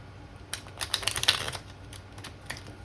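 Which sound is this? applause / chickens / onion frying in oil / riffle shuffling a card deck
riffle shuffling a card deck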